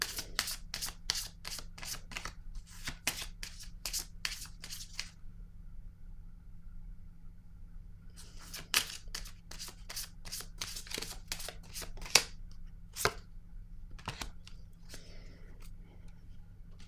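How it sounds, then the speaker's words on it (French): Tarot cards riffled and shuffled close up, quick dry flutters in a dense run, a pause, then more shuffling and a few cards set down with soft slaps over a low background hum. "Je vais déposer une carte rose"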